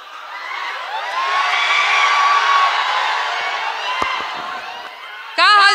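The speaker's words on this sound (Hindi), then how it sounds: "भरपूर तालियों के दरमियान स्वागत कीजिए" A live audience cheers and whoops to welcome a folk singer onstage at an event in Deora Bandhauli, a loud swelling roar of shouts and applause, with a voice cutting in at the end.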